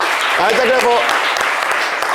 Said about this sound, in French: Applaudissons Aïcha.